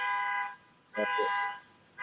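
A car alarm blares in two harsh, steady tonal bursts separated by short gaps, sounding nearby, with a brief voice-like sound between blasts.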